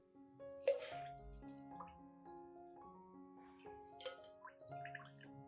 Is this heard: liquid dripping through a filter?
yes